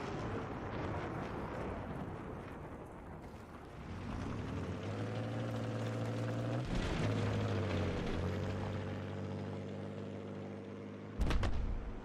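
A hostile helicopter in Battlefield 3 on Xbox 360 drones with a steady engine and rotor tone over continuous rumbling battle noise, building midway and ending in a sharp loud burst.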